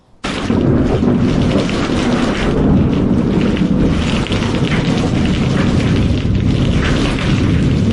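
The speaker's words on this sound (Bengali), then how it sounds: "হঠাৎ একদিন ঝড় উঠল, জোরে হাওয়া বইতে লাগলো।" A cartoon storm with strong wind: a sudden, loud, continuous roaring rush of wind and rumble that starts abruptly and holds steady throughout.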